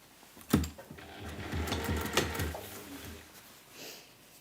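A sewing machine runs a seam along a waxed canvas tote bag in a workshop, giving a close, steady whirring stitch with a sharp clunk at the start and another midway.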